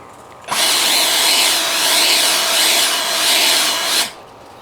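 An Ego LB7654 765 CFM battery leaf blower runs with its nozzle tip fitted, a loud, steady high-pitched whoosh and whine that starts abruptly, holds with slight wavering, and cuts off after about three and a half seconds.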